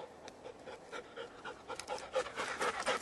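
Dog panting close by at an outdoor .50 BMG rifle shooting session, quick rhythmic breaths growing louder and faster toward the end, fairly quiet, no talk.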